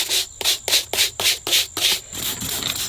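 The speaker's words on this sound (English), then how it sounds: "You scrub all over, get everything scrubbed." A OneWheel board scrubbed clean with a brush, about eight quick rhythmic rasping strokes close up, then a steadier rubbing sound.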